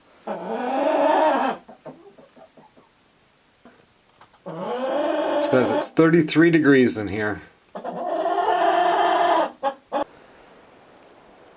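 Chickens squawk and cluck loudly in a farmhouse coop in winter, coming in bursts, while a person talks between the outbursts.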